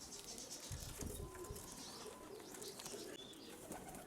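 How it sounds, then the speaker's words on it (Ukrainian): Young pigeon squabs cooing softly outdoors, low murmuring coos repeating over a steady breezy background with occasional wing flutters. "Таке голубенятка"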